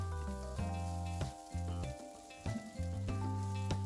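Boiled quinoa crackles and sizzles as it roasts in a hot pan for upma, soft hissing broken by several sharp stirring scrapes, close and quiet with no speech.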